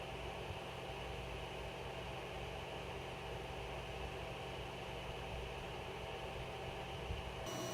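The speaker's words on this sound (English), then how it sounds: "This is the sound of my printer all heated up with no mods" A Creality CR-10 3D printer, heated up and unmodified except for its fan, runs with a steady, quiet mechanical hum and a whirring fan evenly throughout, with no talking.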